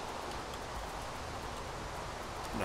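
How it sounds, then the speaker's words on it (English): Quiet, steady rain in the video game Minecraft, a soft continuous hiss of falling drops with no talking. "And of course it's raining."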